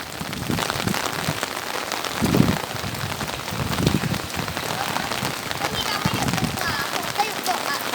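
Steady rain falls on surfaces outdoors at a home, a dense patter throughout with a few thumps and children's voices faintly in the background.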